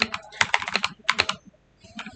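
Quick bursts of typing on a computer keyboard, close and crisp, with irregular clusters of key clicks and a short pause before a few final taps.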